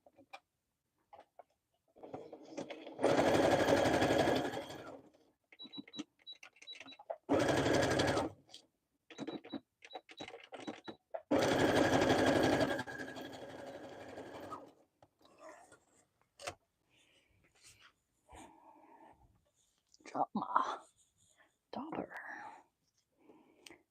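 A sewing machine stitches down a paper craft piece, with three loud bursts of continuous whirring stitching of a few seconds each, separated by quieter handling and ticking sounds, with soft talk between the runs.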